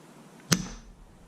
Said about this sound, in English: now let's have a shot with the silencer on, but no pellet in the chamber